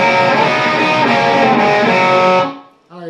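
A distorted electric guitar plays the opening measure of a solo, a dense, loud, sustained wall of overdriven notes that cuts off abruptly, leaving a brief quieter ringing tail.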